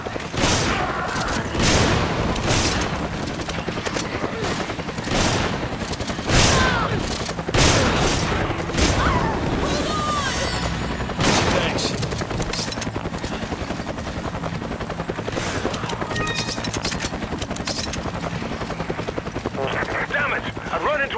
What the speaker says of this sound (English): can hear gunfire